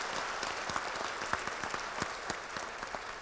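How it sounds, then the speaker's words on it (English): Applause for the Brothers of Phi Beta Sigma fraternity at a regional public program, a quiet, somewhat distant crowd clapping steadily, with a few sharper individual claps standing out from the even wash. "So I want to give the Brothers of Phi Beta Sigma a round of applause for that effort."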